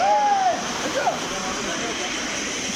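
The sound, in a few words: waterfall in Darjeeling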